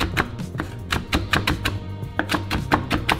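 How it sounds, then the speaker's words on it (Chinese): A knife rapidly minces garlic and chili peppers together on a cutting board while making hot pot sauce, giving a steady run of close, loud, sharp chops with no talk. "把大蒜和辣椒混在一起切碎"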